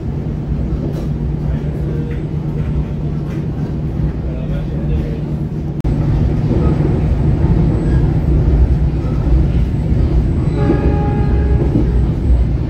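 Passenger train passing straight through a small station on the Jakarta–Garut line, heard from aboard as a loud steady rumble of wheels and carriage noise that swells midway, with a brief horn-like tone near the end.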